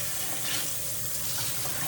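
Running water rinses black-eyed peas in a kitchen sink, a steady broadband gush of tap flow that holds at an even level for the whole stretch with no talking.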